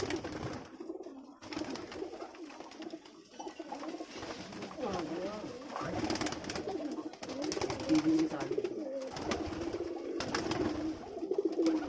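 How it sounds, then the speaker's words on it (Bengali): Foreign-breed pigeons kept at a home loft in Rajshahi coo in soft, repeated throaty calls close by, while a person talks over them. "হ্যাঁ হৃদয়, তোমাদের বাসায় যে বিদেশি কবুতরগুলো আছে দেখি জোড়া দেখাও তো।"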